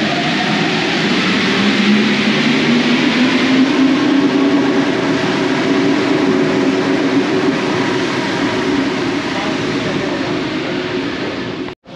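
A Paris metro train at Nation station produces a steady, loud rumble and rolling roar that holds for about twelve seconds, then cuts off abruptly at the end.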